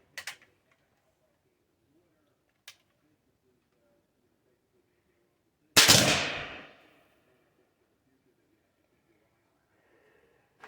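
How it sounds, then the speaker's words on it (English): A black powder gun fires homemade black powder outdoors: one loud, sharp bang with a decaying boom, preceded by a couple of faint clicks and followed by quiet surroundings. "This will be the first attempt to get this to go off with the homemade black powder from Cedar."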